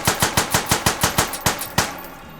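Gunshots from a firearm in the VR shooting game H3VR, about ten sharp evenly paced close shots fired alone, the last few spaced slightly wider before a short ringing tail.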